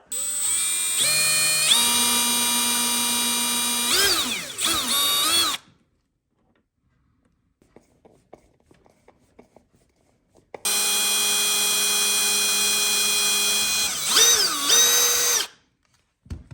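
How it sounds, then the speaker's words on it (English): Power drill whirring loudly in two long bursts, pitch rising and falling as it bites, with a quiet stretch of faint clicks in between. "I just got done drilling the 2 1/16 holes for the screws"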